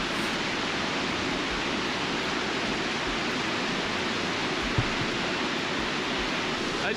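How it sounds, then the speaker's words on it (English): A river running fast and high after heavy rain and snowmelt in British Columbia, a loud, steady broadband rush of churning water with no pauses, close by and unbroken throughout. "the river is flowing just super rapidly"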